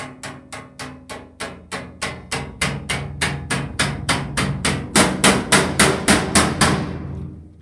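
A hammer strikes a pancake again and again, roughly twenty sharp regular blows that grow slightly louder toward the end before stopping, close and alone.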